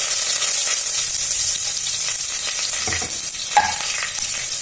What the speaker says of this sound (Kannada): ಈಗ ಎಣ್ಣೆ ಕಾದಿದೆ ಸಾಸಿವೆ ಹಾಕ್ತೀನಿ ಫಸ್ಟ್ ಈಗ ಕರಿಬೇವು ಹಾಕ್ತಾ ಇದ್ದೀನಿ